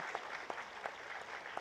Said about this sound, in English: The applause should go up.